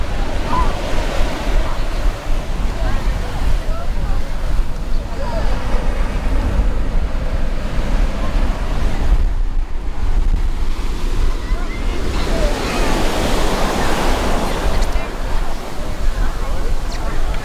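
Ocean waves break and wash steadily onto the sandy beach at Kua Bay, Hawaii, a continuous loud surf roar with wind buffeting the microphone and faint distant voices of people in the background.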